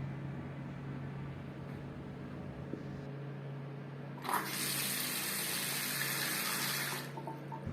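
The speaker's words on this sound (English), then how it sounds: "Turn on the water supply" Water gushing from a household tap just after its cartridge was replaced and the supply turned back on, a loud steady hiss lasting about three seconds, then stopping.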